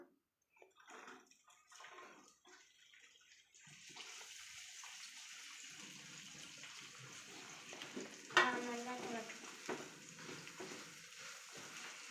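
Prawns sizzle steadily in hot oil after a quieter start with some clatter, a sharp crackle rising briefly partway through.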